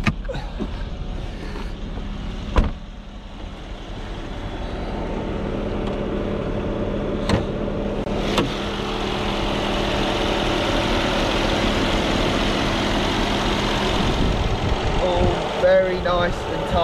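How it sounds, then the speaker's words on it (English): A Mercedes-Benz CL500 with a 4.7-litre V8 runs at idle, a steady low engine hum close by, broken by a few sharp clicks and knocks. "Now I'll show you the V8"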